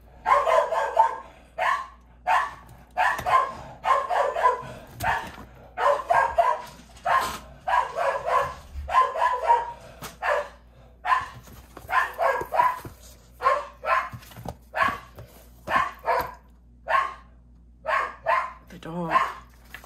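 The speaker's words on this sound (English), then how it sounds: "The dog." A dog barks repeatedly in quick bursts, loud and close, with rhythmic yips and occasional whimpers running throughout; no speech is heard.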